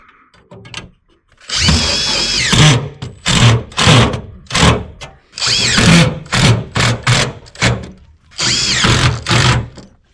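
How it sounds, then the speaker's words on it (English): A power drill drives screws into the timber frame of an old ceiling skylight in loud close bursts of whirring. Short and longer runs stop and start with brief pauses between them, and there is no talk. "Put a couple of screws onto the timber."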